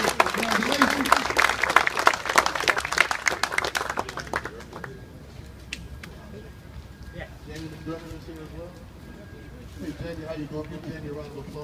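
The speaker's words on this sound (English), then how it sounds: "Give him a round of applause" Applause from a crowd honoring a newly sworn-in judge, dense clapping for about four seconds that then fades into scattered claps and murmuring, with voices talking afterward.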